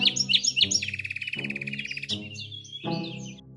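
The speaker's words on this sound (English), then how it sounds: "Look, that's the Bali starling. It's a beautiful white bird that lives only here in Bali." A Bali starling, a white bird of the Bali forest, calls loudly and close in a repeating run of sharp chirps and buzzy trilled phrases, broken by brief pauses.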